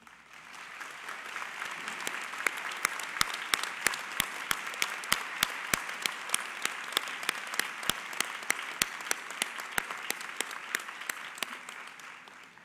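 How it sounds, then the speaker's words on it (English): A commencement audience at a winter graduation ceremony gives its faculty a long, sustained round of applause, broad crowd clapping with sharp individual claps standing out near the microphone. "invite the audience to join me in a round of applause for SCF's finest, our faculty"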